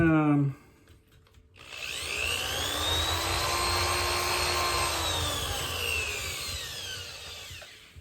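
A power tool whirs up to a steady, loud whine and runs continuously after a short spoken bit at the start.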